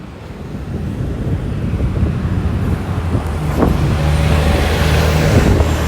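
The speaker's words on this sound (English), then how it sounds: "63 Ossington bus that's going down to Liberty Village, just west of downtown Toronto" Toronto 63 Ossington city bus, an Orion-built vehicle, passing on Vaughan Road in York, Toronto, its engine and tyre rumble building and holding steady close by amid wind noise and general traffic.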